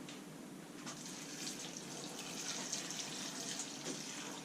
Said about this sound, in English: Now we are going to cover our cabbage with filtered water.